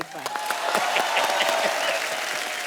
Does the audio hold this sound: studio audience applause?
yes